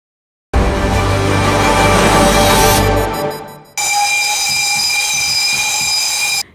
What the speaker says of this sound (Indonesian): Kereta api uap legendaris yang diberi nama Maitam kembali beroperasi.